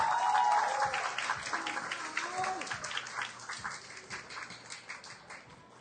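Audience applause for two female boxers at a UGF fight event, steady clapping near the start that thins and fades across the clip, with an announcer's voice running over it.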